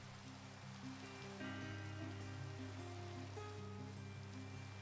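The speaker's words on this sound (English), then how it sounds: "Of course it starts raining." Steady rain falling in a foggy horror video game, a continuous dense hiss with low rumbling layers and sustained tonal drones from the game's ambience, loud and unbroken throughout.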